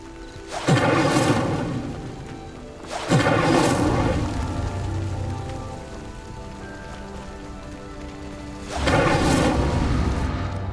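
The Incendio fire spell ignites a pyre in the Hogwarts Legacy video game, three sudden whooshing bursts of roaring flame, each flaring loud and then settling into a crackling burn, spaced a few seconds apart.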